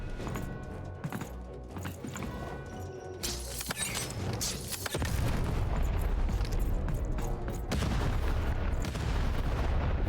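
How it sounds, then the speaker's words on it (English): Cannon fire in the video game Lost in Random, heard as loud booming blasts mixed with game effects, with a heavy sustained rumble continuing through the second half. "Shoot the button to fire the cannon."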